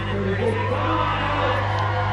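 A crowd at an IFSC bouldering World Cup semi-final in Vail cheers and whoops continuously, a loud, dense roar of voices over a steady low hum.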